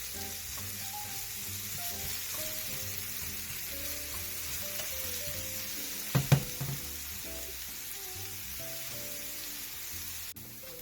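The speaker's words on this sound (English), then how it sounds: "all we're doing is just browning out the onion and the garlic here" Onion and garlic brown steadily in a pan for a Mangalorean chicken curry, a soft continuous crackle beneath quiet background music, with a couple of brief clanks midway.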